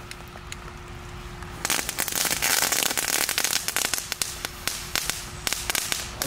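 A whole pack of firecrackers goes off at once, with a rapid burst of sharp, loud cracks and pops that starts abruptly and continues unevenly for several seconds.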